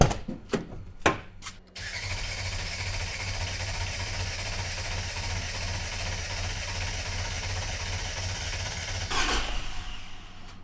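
A Nissan GQ Patrol engine fitted with a new Holley 350 carburettor cranks in a few short bursts, then catches and settles into a steady, fairly loud idle with a low rumble, with a brief rise near the end.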